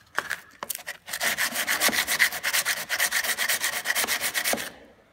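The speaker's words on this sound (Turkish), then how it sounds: "Bunu şimdi zımpara yapacağız arkadaşlar." Close, rhythmic hand sanding of dried primer on a Suzuki Carry body panel, quick back-and-forth abrasive strokes repeating steadily for several seconds, no voices.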